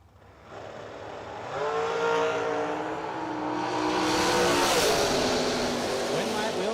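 A hot rod engine roars and climbs through gears at a drag race, its revving harmonics rising steadily and growing louder over several seconds, with a commentator talking over the engine noise.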